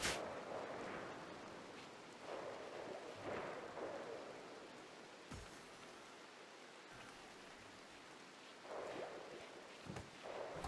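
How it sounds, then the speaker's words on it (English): Rain falls steadily in the video game RimWorld, a soft, even hiss broken by several low, rolling rumbles of thunder, heard quietly with no speech. "This stupid rain has lasted so long already."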